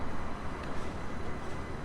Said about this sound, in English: Or here comes the train, it just arrived.